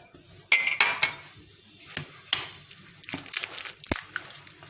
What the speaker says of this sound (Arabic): هحط هنا بقى نص كوبايه السكر